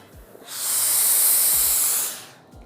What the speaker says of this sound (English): I can control my steam with the right or left-hand side button